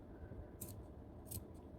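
Scissors snip into the seam allowance of wool fabric for a jacket collar, two quick, crisp cuts a little apart over a quiet room hum.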